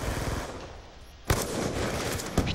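Gunfire in the video game Black Ops II, a dense rattle of rapid automatic shots with a couple of sharper bursts standing out, loud and continuous.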